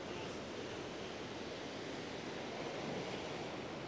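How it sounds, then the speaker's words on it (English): Ocean surf breaks and washes steadily at a surfing spot, a broad, continuous roar of water with some wind noise on the microphone and no voices. "you see the waves are really starting to come in now"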